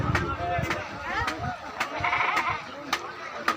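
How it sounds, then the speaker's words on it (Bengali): A goat bleats repeatedly at a rainy cattle market, its calls coming in short, close bursts amid crowd chatter and people talking nearby. "ছাগল"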